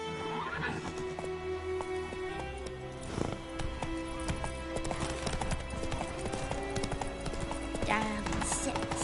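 A horse gallops in the video game The Witcher 3, with a steady, close clip-clop of hooves running throughout and a whinny along the way.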